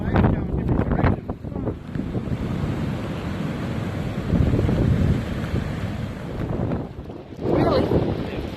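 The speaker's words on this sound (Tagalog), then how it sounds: "Look at the waves going in different directions." Rough surf and gusting wind at a rainy shoreline, waves churning in different directions; a continuous loud roar with wind buffeting the microphone, swelling louder near the start and again toward the end, with no talk.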